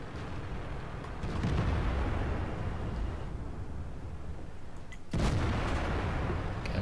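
Tank cannon fire in World of Tanks booms with deep rumbling blasts, one heavy shot about a second in and another sharp one near five seconds, over a steady low roar of engine and battlefield noise.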